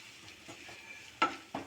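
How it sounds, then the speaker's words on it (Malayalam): Spices with Kashmiri chili powder sauté in a pan, a faint low sizzle broken by two sharp stirring scrapes near the end, close and without talk. "എന്നിട്ട് ഇതൊന്ന് നന്നായി സോട്ട് ചെയ്യാം"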